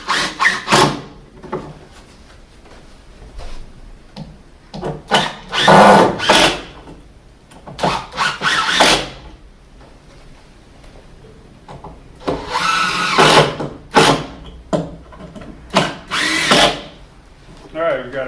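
A power drill drives fasteners into wall studs during an interior room renovation in Kagoshima, Japan, in several loud, close whirring bursts of a second or two, with someone talking in the gaps between them.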